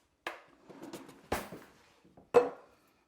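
A spoon scrapes and clinks against a bowl while chicken casserole seasoning is mixed, giving a few sharp knocks scattered among softer stirring rattles, close and fairly quiet.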